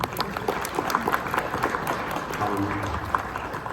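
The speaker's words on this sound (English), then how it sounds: "please applaud for that" Panel audience at a gaming expo applauding, scattered clapping swelling and settling in a large hall, with voices murmuring underneath at moderate volume.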